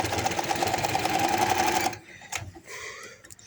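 A sewing machine runs fast and steadily for about two seconds, stitching a baby hoodie's hood onto the shirt, then stops, leaving soft handling noises of the fabric.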